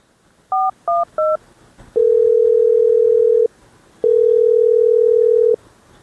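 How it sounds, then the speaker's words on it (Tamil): Telephone keypad tones for a phone call: three short dial beeps in quick succession, then two long steady ringback tones with a pause between them, loud and close with no talk. "சரி சித்தப்பாக்கு ஃபோன் அடிப்போம்"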